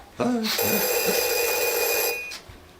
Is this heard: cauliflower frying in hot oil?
no